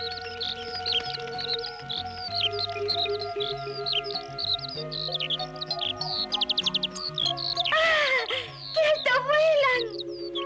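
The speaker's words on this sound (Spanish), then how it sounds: "¡Pájaros!" Birds chirp and tweet in a rapid, high series of calls outdoors in the countryside, under a steady bed of soft background music.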